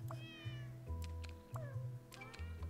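Several meows from a cat in a video game, each one rising and falling in pitch and spaced through a short stretch, heard close and clear over a soft background of steady game music.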